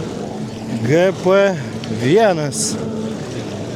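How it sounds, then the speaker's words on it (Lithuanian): High-revving Sea-Doo jet ski engines surging at the start of an Aquacross championship race on the lake at Elektrėnai, rising and falling in pitch as the watercraft race past, with a commentator talking over them. "Ir taigi sustartavo patys galingiausi vandens žirgai"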